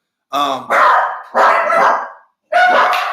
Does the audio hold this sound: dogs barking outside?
yes